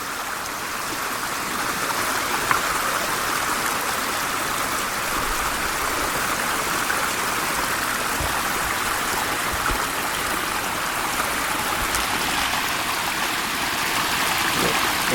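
Spring-fed water pours out of a small hole near a waterfall at Colorado Bend State Park in Texas. It makes a continuous, close, even trickling rush with no voices.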